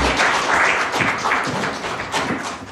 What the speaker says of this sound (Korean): 두 분 발제자 토론자 선생님께 박수 한번 주시면 감사합니다.